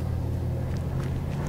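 A car engine approaching in the video game H1Z1, a low steady rumble throughout, with no talking over it.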